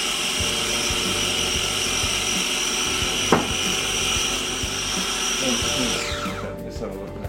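A kitchen blender whirs steadily at high speed blending mash as oil drips in through the lid, a loud continuous motor drone that cuts out near the end.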